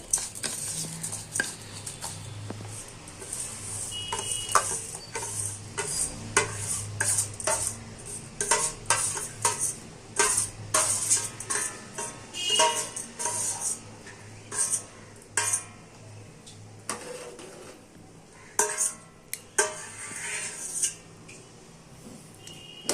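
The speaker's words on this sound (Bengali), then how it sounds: "দিয়ে ভালো করে দুধের মধ্যেই আমি চালটা সেদ্ধ করবো।" Rice stirred into milk in a pot for Bengali payesh made with new jaggery, a spoon scraping and clinking against the metal in steady repeated strokes over a low simmering background.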